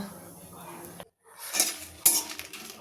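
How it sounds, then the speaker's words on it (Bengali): A dry pan heats on the stove for roasting dried red chillies, panch phoron and whole cumin before grinding, with a few soft scrapes and clinks of a utensil against the pan, faint and close. "কড়া গরম হচ্ছে, এবার এটা শুকনো খোলায় ভেজে নেবো"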